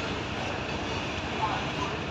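A passing freight train makes a steady, dense rumble that fills the whole moment, heard from nearby at moderate volume without pause.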